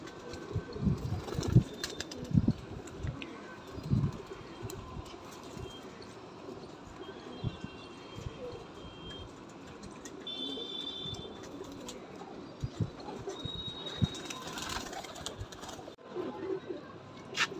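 Pigeons at a loft give soft cooing and bursts of wing flapping over a busy, low rumbling background with scattered thumps, moderately faint throughout.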